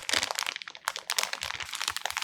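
A plastic bag crinkles and crackles in quick, close bursts as peeled mandarin segments are packed flat in it for freezing.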